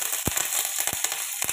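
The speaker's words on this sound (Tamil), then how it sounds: "சோம்பு நல்லா பொரிஞ்ச உடனே இதோட ஒரு பட்டை, வாசனைக்காக 2 ஏலக்காய், 2 கிராம்பு" Fennel seeds, cinnamon, cardamom and cloves fry in hot oil, giving soft sizzling with a few sharp pops and crackles bursting irregularly over a faint hiss.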